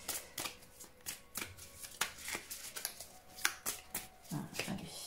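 Tarot cards being handled and shuffled, a series of quick riffling bursts and soft slaps at an uneven rhythm, close and moderately quiet, with no talking.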